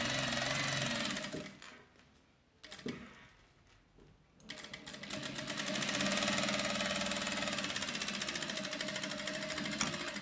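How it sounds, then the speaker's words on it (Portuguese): An industrial sewing machine stitches napa leather, a fast close mechanical whir that pauses briefly in the middle, drops to quieter handling, then runs again steadily to the end. "eu estou usando a máquina industrial"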